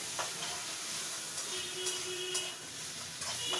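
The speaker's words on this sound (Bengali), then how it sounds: "আর একটু ভাজা ভাজা করে নিচ্ছি মশলাটা যাতে একটু ভাজা হয়" Masala spices fry in a pan for a rice dish, giving a soft, steady sizzling hiss with a few light stirring clicks and scrapes.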